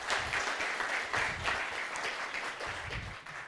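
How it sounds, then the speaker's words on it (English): Steady, dense audience applause at a network operators' meeting holds at moderate volume for a few seconds after a talk, a continuous patter of many hands with a slight dip near the end. "Big round of applause"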